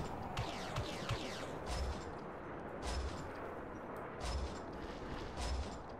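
Incoming gunfire in the ARMA 3 Star Wars mod: heavy booms and bursts of shots arrive in uneven clusters over a constant rumble of battle, some shots sharper and nearer, others dull and distant.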